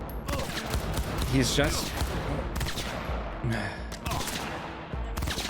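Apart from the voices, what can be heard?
gunfire in the video game Cyberpunk 2077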